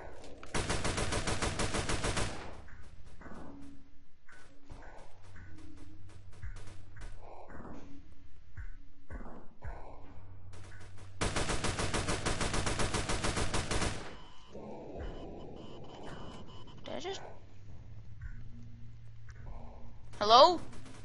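Bursts of automatic gunfire in a Roblox game, two loud sustained rapid-fire volleys separated by quieter stretches of scattered clicks and game sounds, with a voice talking at points.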